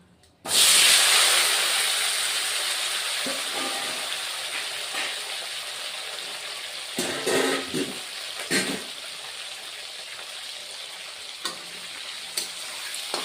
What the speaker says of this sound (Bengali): আলুটা অল্প ভেজে নেব